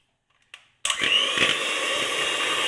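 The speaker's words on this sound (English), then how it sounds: "this is what you call an electric blender" An electric blender mixing sugar for an eggless chai cake starts up with a loud, steady whir after a short click, running continuously with no talk over it.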